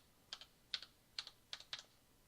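Five quick keystrokes on a computer keyboard, each a crisp close click with a faint double tap, spaced unevenly in a quiet room.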